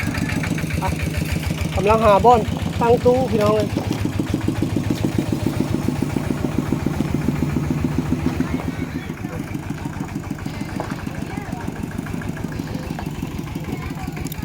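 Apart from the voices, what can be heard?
tractor engine running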